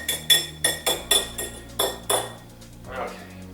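Crab imperial ingredients are mixed in a bowl, the utensil knocking against the sides in a quick series of clinking strikes, close and bright, before fading into softer scraping.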